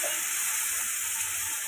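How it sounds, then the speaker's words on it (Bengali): Spices with turmeric powder and onion paste fry in hot oil in a pan, giving a steady, close, even sizzle with no talk. "অলরেডি আমার মশলাটা কষানো হয়ে গিয়েছে এবং তেলটাও উপরে উঠে এসেছে"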